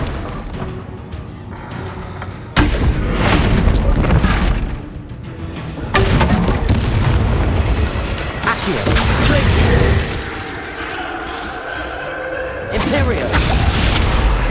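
Bombarda blast spells go off in Hogwarts Legacy combat, several sudden booming, shattering bursts spaced a few seconds apart amid whooshes and clatter, loud and close over a busy game soundscape.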